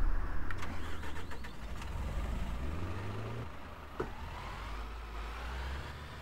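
Simulated London Citybus Gemini 3 B5LH bus in OMSI 2 starts up with a cranking whir that catches into a deep, rising diesel rumble and then settles into a steady idle heard from outside, loud and close.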